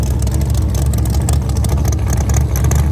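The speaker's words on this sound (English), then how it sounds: "it appears this one is rocking twin turbos in the back seat region of that hot rod" A twin-turbo hot rod drag car in the Outlaw Small Tire class at a Muncie drag strip, its engine roaring loud and steady at close range without letting up.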